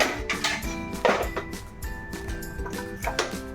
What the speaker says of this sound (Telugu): ఇవన్నీ పక్కన పెట్టుకొని బాండి పెట్టుకొని